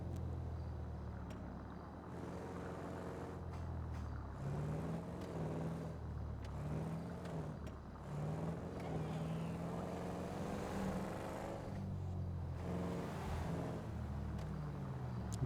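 An old, worn car in the video game GTA V drives along with a continuous engine hum that rises and falls as it shifts, with faint game background sound around it.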